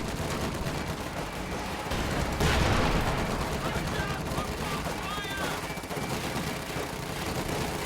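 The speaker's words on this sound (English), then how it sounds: "A bunch of Panzerfausts and Panzerschreck fire." Panzerfaust and Panzerschreck anti-tank weapons firing in a video game, heard as a dense cluster of blasts with a louder burst near the middle, set against a continuous battle din.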